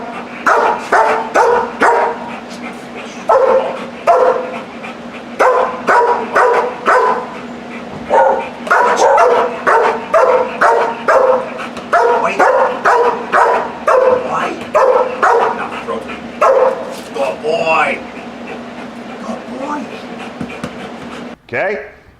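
Dog barking repeatedly at a stranger during protection training in a public setting, a steady run of loud, close barks with brief pauses, trailing into quieter yips near the end.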